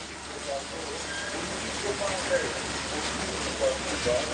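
Rain falling around a crowded pani puri cart, a continuous broadband patter with small swells, while faint voices murmur in the background.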